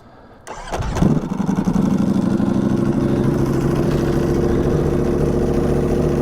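A modified Ducati V4 R motorcycle cold-starts with a sharp crank and a sudden loud bark, then holds a fast, close, steady idle that stays loud and uneven to the end.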